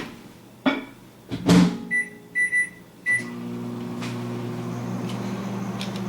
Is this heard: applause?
no